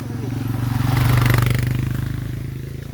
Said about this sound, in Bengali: বাইক আছে একটা